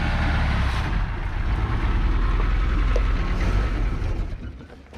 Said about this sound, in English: Why does it sound like a diesel? I don't think a gas burner is supposed to sound like a diesel.